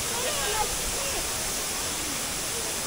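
Waterfall at Anjaneri carrying lots of water, a steady full rushing hiss that fills the scene without pause, with faint voices talking underneath.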